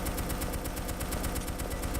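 Loud, dense crackle of gunfire and blasts from a Due Process tactical shooter match, with a flashbang grenade going off amid rapid repeated bursts that fill the whole stretch.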